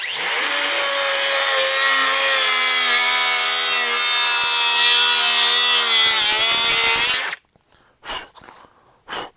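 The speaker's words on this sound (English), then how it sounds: "I'm gonna use my DeWalt cutters, and I'm gonna cut this open." DeWalt cutters slicing open a tool package, producing a loud, sustained grinding, rasping cut with harsh tonal overtones for about seven seconds, then an abrupt stop followed by a few short rustles and snips.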